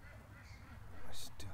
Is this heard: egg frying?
no